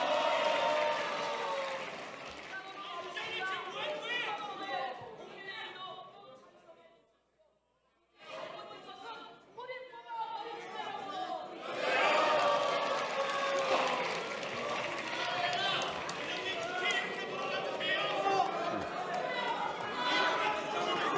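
Crowd in a national assembly plenary chamber shouting and clapping, a dense sustained roar of voices and applause that drops out briefly midway, then surges back loud and continuous.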